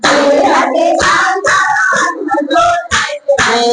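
Hands clap in a steady rhythm beneath group singing of a Gujarati devotional bhajan, the claps landing as sharp, fairly close beats between sung phrases.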